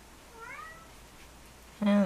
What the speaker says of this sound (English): And there's my cat asking to come in